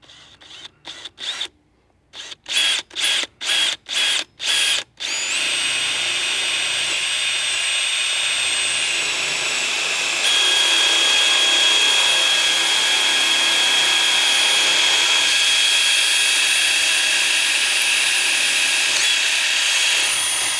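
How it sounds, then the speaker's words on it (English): A hole saw bores through the transom of a skiff, opening with a run of short stop-start bursts and then settling into one long, loud continuous grinding whine that climbs in pitch midway. "We're ready to go ahead and drill our hole."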